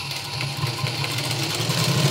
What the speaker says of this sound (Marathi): आता इथपर्यंत हा शिलाई देऊन घ्यायचा.